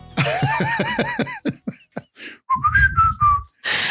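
A person whistles a series of rising and falling notes, then a few sustained tones, imitating a chickadee's call, with brief breathy pauses between.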